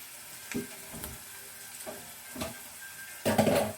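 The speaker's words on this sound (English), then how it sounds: "I'm going to put 1 teaspoon of ginger and garlic paste in it and let it cook with the onion." Chopped onion fries with ginger and garlic paste in a pan, a soft continuous sizzle with occasional stirring scrapes, and a louder burst of sizzling at the end.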